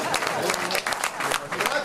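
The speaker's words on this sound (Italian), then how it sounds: "un applauso al nostro vecchio canterino amico Aldin" A crowd applauds in a dense, steady patter of many hands clapping at an Arci club in Pino Sottano, Genoa, during a trallalero singing gathering. The clapping carries on loudly throughout.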